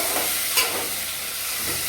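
Drumsticks fry in hot oil with a soft continuous sizzle and a brief stirring scrape, close and steady.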